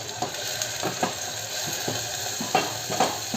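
Onion paste frying in hot oil with ginger, garlic and coriander for chole, with a steady sizzle and repeated scraping stirs of a spoon in the pan, no talking.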